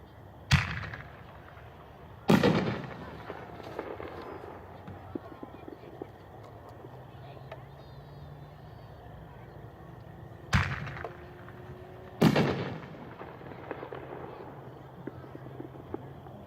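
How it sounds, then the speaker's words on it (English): A neon artillery shell firework from a 60-gram canister is launched and bursts, giving sharp booming reports spaced out across the clip, with quieter crackle and outdoor background between them. "All right, that was neon artillery."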